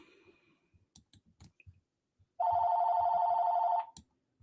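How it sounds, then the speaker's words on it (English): A telephone rings once in a single sustained electronic tone lasting over a second, loud and close. Scattered soft clicks come before it. "The phone rang"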